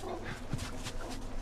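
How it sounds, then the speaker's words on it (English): Dogs bark in The Last of Us: a few faint, distant yips and barks scattered over low background ambience. "I hear those dogs again."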